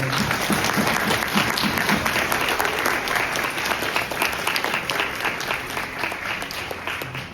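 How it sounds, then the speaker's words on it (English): An audience at a university panel plenary applauds in a steady, dense burst of clapping that carries on at full strength throughout. "Another round of applause for these people."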